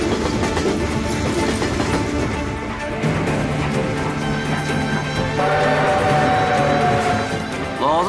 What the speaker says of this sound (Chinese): 老子抢了不少次火车，这坐火车还是第一次